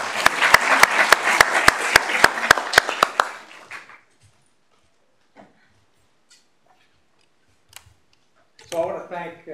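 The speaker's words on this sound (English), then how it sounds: "You can clap." Audience applause at a student government meeting at K-State, a dense burst of clapping for about three seconds that then fades into near silence, with faint scattered noises and a voice starting at the end.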